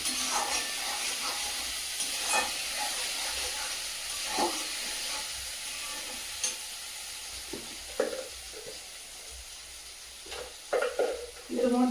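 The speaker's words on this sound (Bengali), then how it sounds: "পেঁয়াজটা ভাজা ভাজা হয়ে গেছে" Onions sizzle and hiss as they fry in a pan at home, with intermittent scraping and stirring knocks that grow busier toward the end, fairly quiet overall and with no talk.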